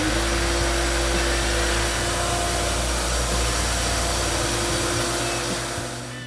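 An orbital floor sander runs steadily at close range, a continuous loud motor hum with a rough sanding drone that eases off slightly near the end, with no talk.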